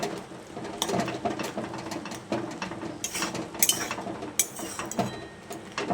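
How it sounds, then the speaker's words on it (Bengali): A metal spatula mashing boiled potatoes in a pan for an egg and potato dish, giving a steady run of scraping and clinking against the cookware with sharp clatters here and there, close by and fairly quiet. "এবার আমি এই আলুগুলোকে একটু এইভাবে খুন্তির সাহায্যে ম্যাশ করে দিচ্ছি"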